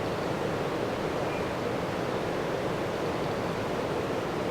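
Rushing river rapids on the Murray River at Dwellingup, a dense, steady roar of water that stays loud and close throughout, with no voices.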